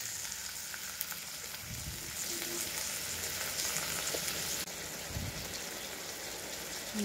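Bottle gourd cooked with fish head frying on high flame, a dense, steady crackling sizzle with occasional stirring scrapes and soft knocks, loud and close throughout, no one speaking.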